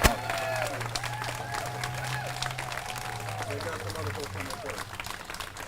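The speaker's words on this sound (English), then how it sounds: "Let's give him a rousing round of applause" A crowd at a Moral Monday rally in Charlotte applauds and cheers, a steady wash of clapping heard from a distance, with a voice speaking over it and a low hum underneath.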